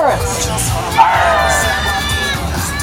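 Children screaming and shouting together as a crowd at a live pirate show, a loud, sustained burst of excited high-pitched voices filling the space.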